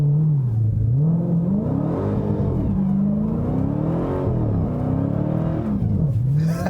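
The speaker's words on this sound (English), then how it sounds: "I just had to do a small one because you're in a Hellcat, you got to do a little burnout." A 2018 Dodge Challenger SRT Hellcat Widebody engine revs hard during a short burnout, a loud, close, continuous roar whose pitch rises and falls in several sweeping surges.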